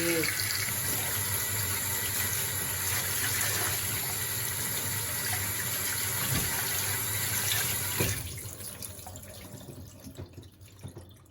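A kitchen tap runs steadily onto a daikon radish being washed, a loud, close, continuous gush lasting about eight seconds before it cuts off, leaving faint drips and handling sounds.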